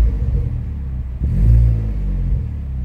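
A Vauxhall Corsa VXR fitted with a sports exhaust rumbles deep and close at idle, then gives a brief swelling rev before settling back to a steady low drone.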